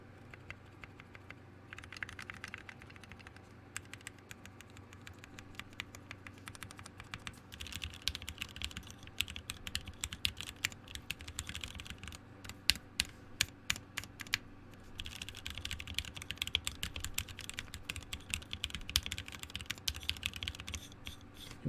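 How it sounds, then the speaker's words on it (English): Quiet, close computer keyboard typing from a Unikorn keyboard build, with a busy patter of key clicks and occasional deeper spacebar thocks in bursts, no voice over it. "such a clean spacebar sound."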